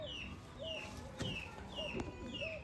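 Madrasi pigeons coo with repeated soft calls, close by, under a low background murmur.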